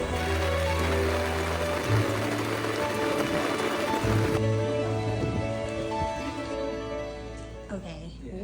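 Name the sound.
heavy rain pouring on a covered boat on a lake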